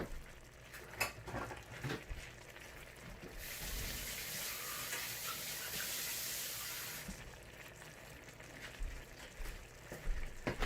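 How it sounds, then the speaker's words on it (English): Water pours in a steady, hissing gush for about four seconds into a pan of pork, tomato and green beans, close and moderately loud, framed by quieter kitchen clatter before and after. "gonna add a little bit of water"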